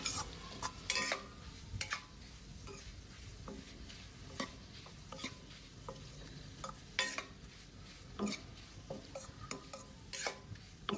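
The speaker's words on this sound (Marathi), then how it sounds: "आता आपल्याला ह्या शेवया हलक्या हाताने भाजून घ्यायच्या आहे." Vermicelli being gently roasted in ghee for sevai kheer, with steady soft sizzling and frequent light scrapes and clinks of a spoon stirring in the pan, continuous and close.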